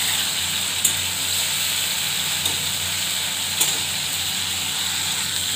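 Pieces of pointed gourd (potol) frying in a pan with spices, giving a steady, close sizzle and hiss with a few faint clinks of a utensil against the pan.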